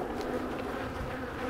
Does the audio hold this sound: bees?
yes